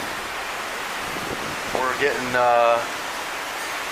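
Hurricane wind and ocean surf roar as a steady broadband rush, loud and constant, while someone speaks briefly over it.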